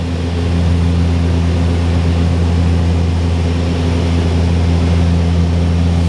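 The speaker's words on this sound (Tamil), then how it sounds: "ஃப்ளைட் இப்போ லேண்ட் பண்ணுறதுக்கு ஆடிட்டு இருக்குது." A steady, loud drone of an airplane engine as it comes in to land, constant and unbroken throughout, with no voices.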